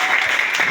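A church congregation applauds, a brief dense wash of clapping from many hands, steady and fairly loud.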